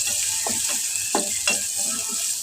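Onions frying in a pan until nearly browned, a steady close sizzle with a few soft stirring scrapes and clicks over about two and a half seconds, with no one talking.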